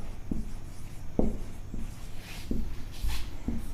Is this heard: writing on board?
yes